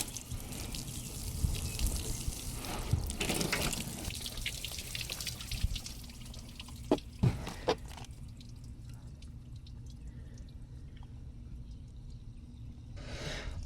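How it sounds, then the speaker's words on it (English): Quiet water sounds with a few sharp drips landing a little apart from a leak in a 2000 Honda CR-V, over a faint steady hiss and low trickle. "Looks like we still have a pretty slow drip coming out of the"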